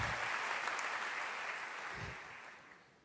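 A church congregation applauds with steady, loud clapping that fades gradually toward the end.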